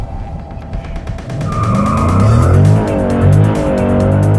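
A 2012 Chrysler 300 SRT drifting on a test drive, its engine droning loudly and steadily while a rising tire squeal builds in over the last few seconds, with no talking.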